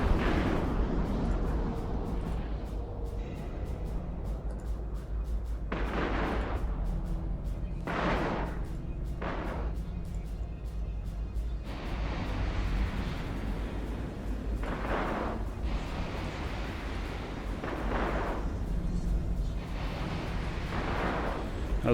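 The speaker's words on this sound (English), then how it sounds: "Missile at the tailpipe" Missile launches in the space game EVE Online during faction warfare with frigates, a series of separate whooshing bursts and booming impacts over a constant low ship hum, each a second or so long and moderately loud.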